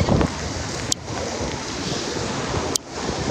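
Heavy rain and rushing water during Hurricane Kay on a road near Mexicali, Mexico, a loud constant roaring wash with gusty wind buffeting the microphone and a couple of sharp knocks.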